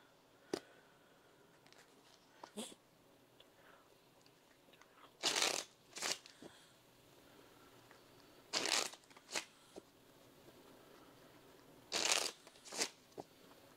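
Three short bursts of cards being shuffled, each a quick riffling rush, separated by quiet pauses with a few faint taps in between.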